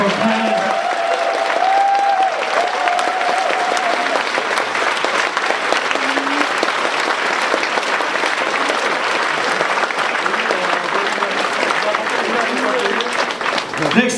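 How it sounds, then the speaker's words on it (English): Sustained audience applause and crowd noise fill a puppet show venue, steady and loud throughout with scattered cheers and voices mixed in. "Give her a big round of applause for Pam."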